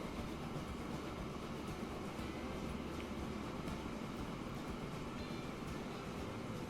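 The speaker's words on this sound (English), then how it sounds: "Alright, train coming round. Goes through this weird junction here." A train in the Transport Fever 2 video game rolls through an odd junction before joining the main line, giving a steady, continuous rumble of wheels and wagons with no talk over it.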